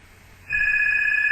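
An electronic telephone bell starts ringing partway through, a steady, loud two-tone trill that holds to the end, with no talk over it.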